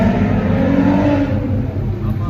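Car engine fitted with new 8-inch exhaust tips, revving loud and close, a steady deep droning roar that holds for a couple of seconds and eases slightly toward the end.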